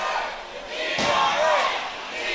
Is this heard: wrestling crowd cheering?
yes